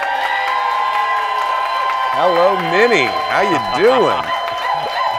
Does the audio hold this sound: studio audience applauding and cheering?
yes